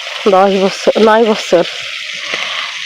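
Tengra fish sizzles steadily in plenty of oil in an old wok, a constant frying hiss that carries on after a brief voice at the start.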